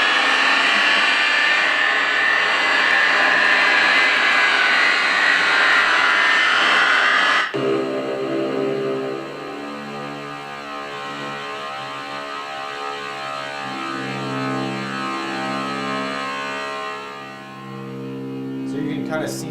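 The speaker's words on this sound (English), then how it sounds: "It's all electronic sounds." Electronic music from Xenakis' UPIC composition Mycenae Alpha: a dense, noisy roaring mass for about seven seconds, then an abrupt switch to layered sustained buzzing tones and shifting glissandi, loud throughout.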